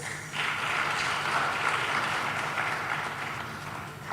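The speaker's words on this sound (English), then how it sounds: "A round of applause." Audience applause for a guest of honor at a formal occasion hosted by a department of African languages, a steady wash of many hands clapping that fills the room for about four seconds with no voices over it.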